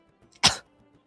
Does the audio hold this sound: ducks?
no